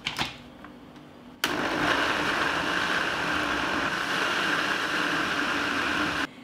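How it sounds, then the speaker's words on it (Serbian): A kitchen blender purees boiled plums, its motor whirring loudly and steadily for about five seconds before cutting off, after a few soft clinks beforehand. "I zatim ću izblendirati šljivu."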